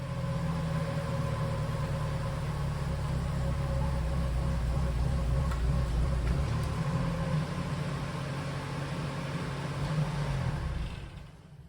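A 1997 Toyota RAV4 running with a rear wheel spinning against light parking brake, fitted with a Torsen limited slip rear differential: a steady low engine and drivetrain hum, moderately loud and continuous, fading out at the end.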